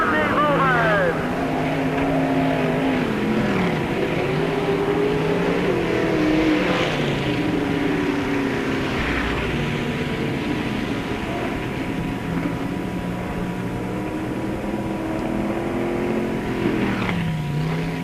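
Race cars roar around Peoria Speedway, their engines droning and rising and falling in pitch as they pass through the turns, loud and steady, while an announcer talks over the racing.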